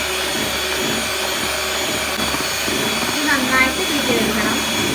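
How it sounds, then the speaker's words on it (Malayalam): An electric hand mixer runs continuously at high speed, beating batter for a black forest cake with a steady whirring drone that fills the whole stretch, with slight swells as the beaters move through the bowl. "ഹൈ സ്പീഡിൽ ബീറ്റ് ചെയ്തെടുക്കുക"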